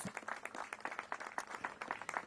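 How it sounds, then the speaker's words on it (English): Quiet, steady applause from an audience at a mayor's press event in honor of city staff, continuous clapping heard at a distance. "So give them a big round of applause"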